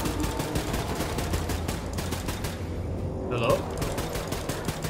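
Rapid automatic gunfire in the Wolfenstein II video game, a dense stream of shots that briefly dips before resuming, with a voice speaking over it.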